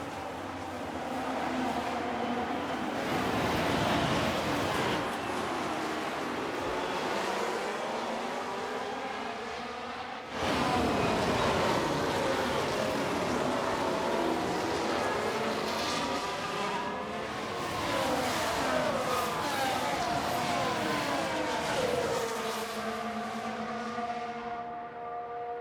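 F1 race cars launching off the grid for a sprint race at Baku in F1 Manager 2023, a dense roar of many high-revving engines rising and shifting pitch together, continuous and loud for the whole stretch.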